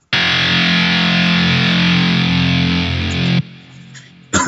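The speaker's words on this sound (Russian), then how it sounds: "здесь у нас играет псевдогитара" A digital, synthetic fake guitar in an electronic music track plays a loud, distorted sustained tone for over three seconds, then cuts off abruptly, followed by a short burst.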